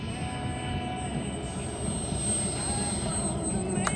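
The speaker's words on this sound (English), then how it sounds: "Look at that, beautiful landing." A model aircraft comes in to land at a jet and prop airshow in Arvada, its steady engine drone and high whine carrying over outdoor crowd noise as a person talks nearby.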